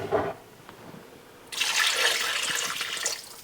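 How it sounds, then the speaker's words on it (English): Water poured into a soup pot on high heat for Southern split pea soup, a steady splashing rush that starts abruptly and runs loud and close for about two seconds before tapering off. "I'm gonna go up with some water now."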